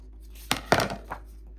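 Scissors trimming the edge of a junk journal cover, a few quick crisp snips in a quiet room.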